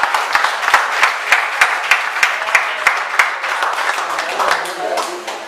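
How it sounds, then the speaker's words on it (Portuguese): A church congregation applauds during a worship service, a dense run of steady handclaps filling the space, with voices mixed in beneath the clapping. "Vamos aplaudir a Ele."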